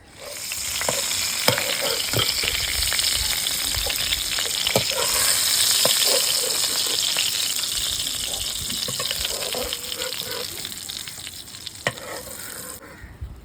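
Giant river prawns (golda chingri) fry in hot oil with a steady, dense sizzle, punctuated by sharp crackles and pops and the occasional scrape of a utensil, close and continuous with no talking.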